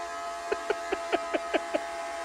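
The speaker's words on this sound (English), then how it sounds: "Somebody tell me why my toilet sounds like this." A household toilet making an odd noise: seven short, evenly spaced chirping squeaks over a steady background hum, fairly quiet and with no talking.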